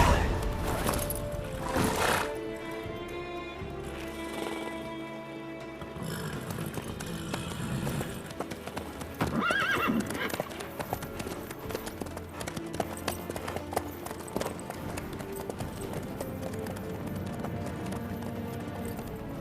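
Horse hooves clip-clop at a steady gallop in The Witcher 3: Wild Hunt, a continuous rhythmic beat under a busy game soundtrack with a brief whinny and scattered clanks.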